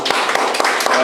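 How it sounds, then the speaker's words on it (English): An audience applauds, with many hands clapping quickly and closely together in a short, dense burst. "All right, y'all, give him a round of applause, everybody"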